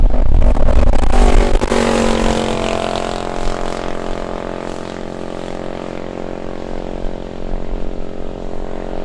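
A land speed mini bike geared so 8,500 RPM gives about 90 mph roars at full throttle on a runway, its engine a loud, steady, high-revving drone with strong harmonics after a rough burst at the start.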